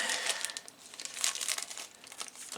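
Crisp snipping and crinkling of scissors cutting through brass cleaning wire, a quick series of sharp cuts close to the mic.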